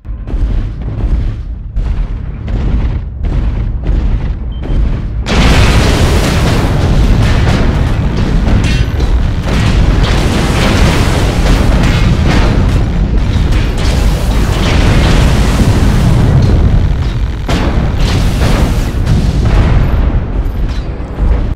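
Combat in the MechWarrior Online video game: loud, heavy explosions and booming impacts pile up into continuous dense rumbling, with a lighter stretch of separate thuds at the start before the barrage.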